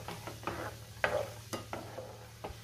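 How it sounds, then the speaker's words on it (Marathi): Peanuts roast in a pan for sabudana chivda, stirred with a utensil that scrapes and clinks in short irregular strokes over a faint dry sizzle, with no talking. "आता मी शेंगदाणे भाजून घेणार आहे"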